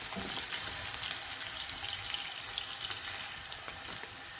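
Onions sizzle in hot oil in a pan, a steady bright crackling hiss that stays fairly even and quiet throughout, with no talking.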